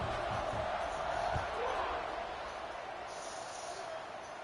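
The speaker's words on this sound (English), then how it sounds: "this crowd is feeling themselves after that last drive" Crowd roar in a video game football stadium, sustained and fairly loud after a scoring drive, a broad steady wash of cheering that eases slightly toward the end.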